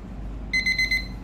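A digital timer set for two seconds goes off with four short, sharp, evenly spaced electronic beeps over a quiet background.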